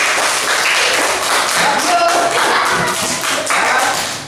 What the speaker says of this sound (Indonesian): tepuk tangan untuk kelompok tujuh